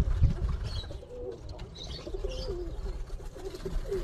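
Soft, repeated low coos from a group of pigeons with young chicks among them, a steady murmuring warble, near, with a few light chirps and no talking.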